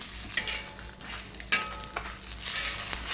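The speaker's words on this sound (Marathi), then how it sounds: "आता आपण लाल मसाला भाजून घेऊ. पहिले मिरच्या भाजून घेऊ." Dried red chillies of three kinds, rasgulla, chapata and Patna, dry-roasting in a pan for a Khandeshi red masala, with scraping stirs and a faint crackle throughout, close and steady.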